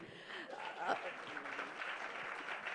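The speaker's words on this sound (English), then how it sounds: "I would really love all of you to give them a very warm applause" Audience applause at the Ignition 2024 event, a steady wash of clapping that holds for about three seconds at moderate distance, with faint voices mixed in.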